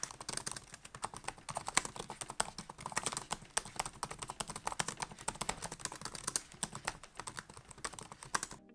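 Fast, steady keystrokes on an Acer Swift Edge laptop keyboard, close and crisp, with continuous irregular clicks throughout and no voices.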